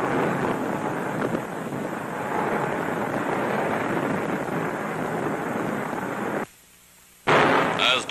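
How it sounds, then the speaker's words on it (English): Allied big guns fire at nightfall in a WWII North Africa newsreel near Tunis and Bizerte, a dense, continuous rumble of booming blasts that cuts out briefly and then resumes with a loud burst. "Darkness falls, the Allied big guns go into action to prepare the way for complete collapse of the Axis defenses."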